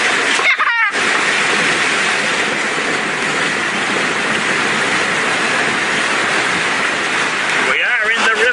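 River water splashes and rushes steadily around a vehicle during a river crossing, loud and continuous; voices briefly at the start and end.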